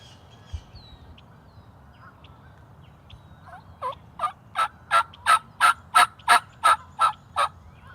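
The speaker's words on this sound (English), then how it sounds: "I'm set up on several big gobblers" Big wild turkey gobblers on a hillside farm at morning call from a moderate distance, building into a rapid, rhythmic gobbling burst of about a dozen pulses, loud and clear over a quiet background.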